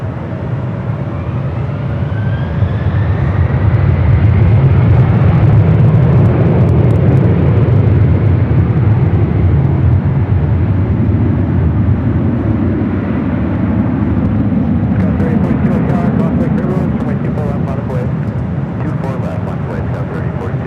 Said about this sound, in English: Delta Airlines 951 taking off to JFK on the 767-300ER.